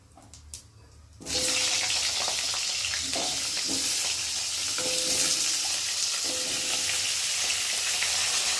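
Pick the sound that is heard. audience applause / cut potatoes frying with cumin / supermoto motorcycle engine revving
cut potatoes frying with cumin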